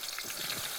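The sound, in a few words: tempering onion and ginger sizzling in hot oil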